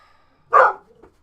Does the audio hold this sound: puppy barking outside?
yes